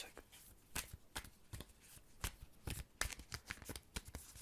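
Tarot cards being shuffled during a cartomancy reading, with a rapid series of crisp riffling slaps and flutters repeating in bursts, close and clear, with no talking.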